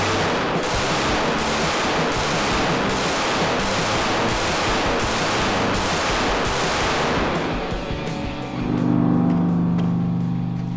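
Rapid pistol shots from an FN 509 Tactical ring out at an outdoor range. About nine sharp, evenly spaced cracks come in quick succession and are loud and close. A short engine-like hum follows.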